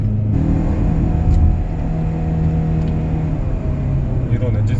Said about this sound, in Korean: 이런 엔진 사운드 들으실 수가 있고,